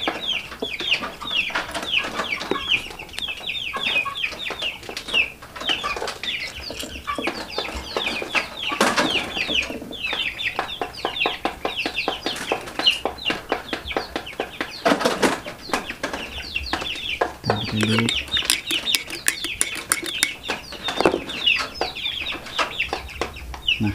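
Chickens of a red goyang breed cluck continuously and loudly up close, with bursts of wing flapping and scattered sharper calls throughout.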